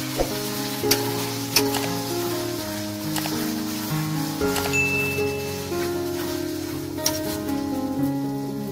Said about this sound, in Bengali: এখানে আদা বাটা এবং রসুন বাটা দেওয়া হলো গরম তেলের মধ্যে